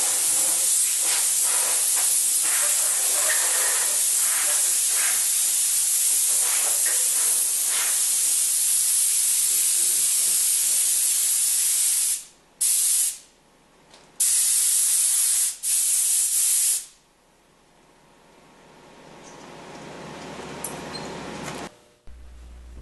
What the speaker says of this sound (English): Blow loose chips off the machine with compressed air.